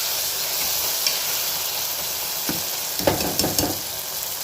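Tomatoes and green chilli sauté in a pan for a beef gravy, with a constant close sizzle and a few brief scraping stirs toward the end.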